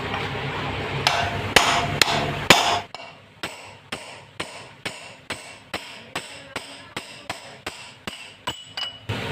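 An old axle is hammered against the seized bearing collar of a motorcycle front wheel, giving a few heavy metallic blows and then a steady run of sharp, evenly spaced clanging strikes, close and loud.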